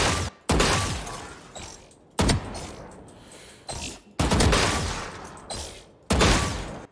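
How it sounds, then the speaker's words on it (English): Automatic fire from an AK-47-style rifle in the video game Valorant, loud close bursts cut off abruptly, four long volleys with short pauses between them. "This is kind of like the AK-47. It's a rifle in the game."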